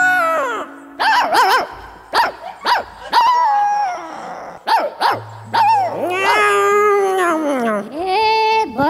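A voice imitates a dog in a Nepali comedy scene, giving a string of short, sharp barks and yelps, then longer whining howls, loud and close with brief pauses between bursts.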